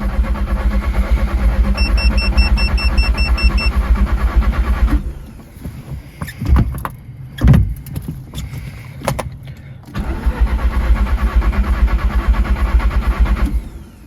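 A neglected Audi TT's engine cranks and catches, then settles into a steady, loud idle with a rough patch of sputtering revs midway before the even idle resumes.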